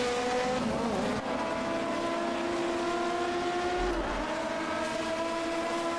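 An Alfa Romeo 155 Ti race car at Silverstone drones steadily at high revs with a sustained whining tone, its tyres squealing through a long corner, loud and continuous.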